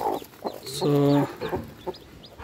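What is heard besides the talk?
native hen clucking with newly hatched chicks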